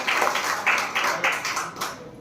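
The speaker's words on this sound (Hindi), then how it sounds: "इस बच्चे के ताली बजाओ सारे बच्चे।" Schoolchildren in a village government school clap for a classmate, a burst of scattered rapid hand claps from a group, fairly close, rising and falling over about two seconds.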